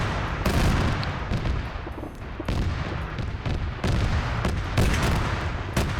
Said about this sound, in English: Hold on, some autocannon fire.